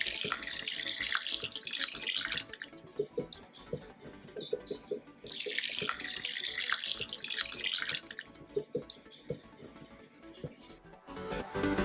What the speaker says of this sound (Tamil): இப்போ இந்த காய்கறி எல்லாம் வேகிற அளவுக்கு தண்ணி விட்டு வேக வச்சுக்கலாம்.